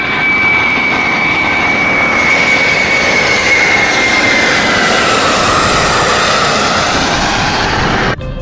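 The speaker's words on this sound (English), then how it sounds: "This is a jet plane. It flies super fast through the clouds." A jet plane flies overhead, a loud continuous engine roar with a steady high whine that slowly shifts in pitch as it passes, filling the whole stretch without voices and cutting off abruptly at the end.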